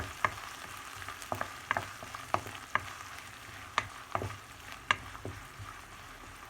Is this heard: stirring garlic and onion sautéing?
yes